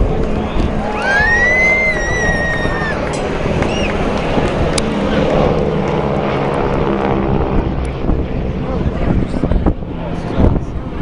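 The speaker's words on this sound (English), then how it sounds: "Pilots fly the aircraft through a well-rehearsed routine, including loops, rolls, stall turns, and even inverted flight." An aerobatic propeller aircraft from a wing-walking formation team flying at an airshow in Westport, Ireland, a continuous loud engine drone with a rising whine heard outdoors over wind noise, with a voice speaking over it.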